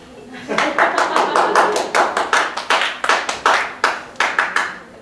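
Audience at a jazz club claps in a burst of sharp, distinct hand claps at a brisk, uneven rhythm, fairly close and loud, the claps thinning into separate slaps toward the end.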